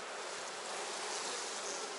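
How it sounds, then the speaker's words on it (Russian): Dense swarm of honeybees buzzing around a hive frame during queen emergence from a queen cell, a steady close-up drone that stays loud and unbroken, with no voices. "Сколько пчел."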